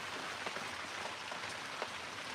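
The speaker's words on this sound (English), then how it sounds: "It is raining where I am." Steady rain falls at night in upstate New York, a soft even hiss with a few faint drop taps throughout and no voices.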